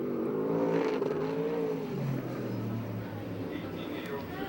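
USAC/CRA sprint car on a qualifying lap at Perris, engine revving loud and then dropping in pitch as it moves away, with an announcer talking over it.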